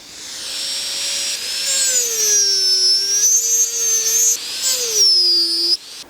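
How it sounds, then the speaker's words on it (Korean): A high-pitched rotary dental-type carving drill whines steadily, its pitch rising and dipping as the bit bites into wood, loud and close with no talking. "초 깎는 기구예요. 이게 치과에서도 써요."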